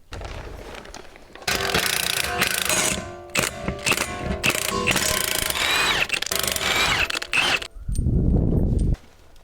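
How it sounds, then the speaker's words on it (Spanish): Power tool loosening the four screws on the wheel bearing of a 2020 Ford Mustang GT, loud close ratcheting bursts with short gaps, then a final lower rumbling whir. "tenemos que sacar esos 4 tornillos para poner el nuevo que está allá"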